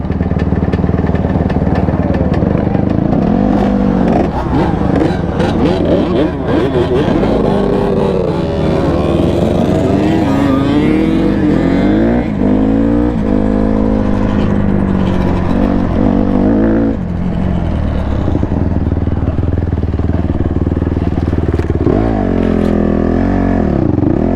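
A dirt bike heading into an off-road section, its engine loud and close throughout, revving up and down with shifting pitch as the rider accelerates and eases off.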